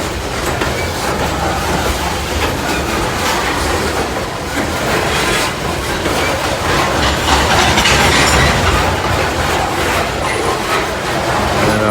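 A loaded coal freight train with a distributed power locomotive passes close by, a loud continuous rumble with rhythmic clickety-clack of wheels over rail joints.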